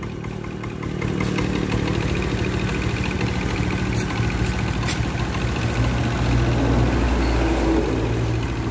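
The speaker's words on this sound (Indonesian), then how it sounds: "Oke, motornya sudah hidup." A Honda Beat injection scooter idles steadily with its engine running close by, a continuous even putter that holds without revving from start to finish.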